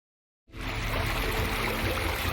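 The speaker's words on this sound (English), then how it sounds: "A man that was passing by captured this mysterious bubbling" Water bubbling and trickling in a desert, a steady close gurgle that begins abruptly after half a second of silence and carries on evenly without talk.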